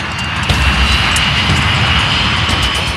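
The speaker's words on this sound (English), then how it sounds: "The 737 finally begins to roll down the runway." Boeing 737 jet engines roaring loudly and steadily during the takeoff roll down the runway, a dense, continuous close rumble with no pauses.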